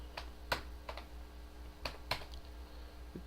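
Numbers typed on a computer keyboard during a programming logic lesson: a handful of sharp, separate key clicks, irregularly spaced and close to the microphone, over a low steady hum.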